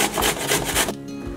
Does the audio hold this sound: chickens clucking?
no